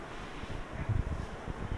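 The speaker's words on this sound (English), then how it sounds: "there's a heavy gust of wind flowing from the left to the right side of the park" Heavy gusty wind buffets the microphone during a wet schools rugby match in driving rain, a steady low rumble swelling and dropping in uneven bursts with no voices over it.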